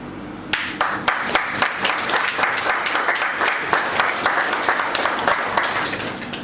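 Sustained audience applause at a distinction ceremony, many hands clapping close and fairly loud, with rhythmic, sharp claps continuing evenly throughout.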